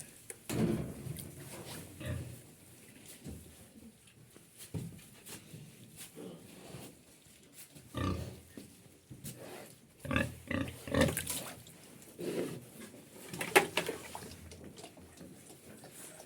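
A sow in a pen grunts and oinks in scattered bursts, some louder and closer than others, with faint background clatter between the calls.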